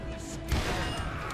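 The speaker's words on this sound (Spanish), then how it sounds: "Voy a meter unos balazos que os voy a dejar agujereados" Gunfire in the Wild West shooter Call of Juarez: Gunslinger, a loud burst of shots around the middle of a short, busy stretch of game sound with no voice over it.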